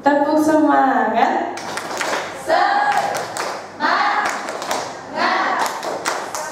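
A group performs an Indonesian tepuk semangat clapping chant, sharp hand claps falling in rhythmic bursts with pauses between, mixed with voices chanting and talking close by.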